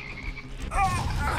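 Frogs croak in the video game Immortal Redneck, a burst of layered croaking rising midway and holding steady over low game ambience.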